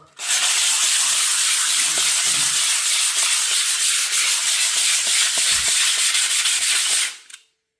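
Steady, continuous scratchy rasp of 180-grit sandpaper wrapped around a piece of foam board, rubbed by hand over a surface, sustained for several seconds with an even rhythm, then stopping.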